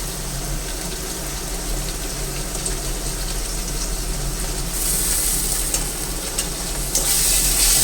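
Ginger-garlic paste being stirred into frying onions in a pan for veg Kolhapuri, a steady close sizzle with soft scraping of the spoon that grows slightly louder toward the end, no voices.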